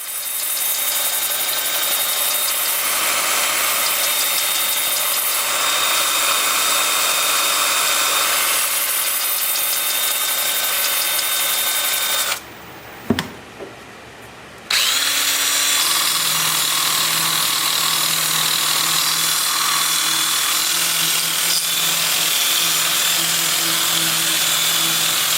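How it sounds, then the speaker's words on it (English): A wooden bowl sanded with a 2-inch sanding disc on a power tool, a loud steady high-pitched whir that drops out briefly with a click, then resumes with a slightly lower droning tone. "I'm sanding with my 2-inch disc starting at 80"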